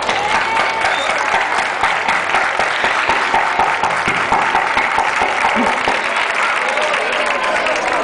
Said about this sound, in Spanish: con un fuerte aplauso a Salvador Casas, Juan Saavedra, El Curro, El Punti y a Sergio Quirón.